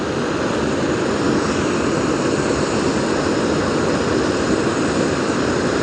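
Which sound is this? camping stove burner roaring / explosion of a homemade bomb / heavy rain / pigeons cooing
camping stove burner roaring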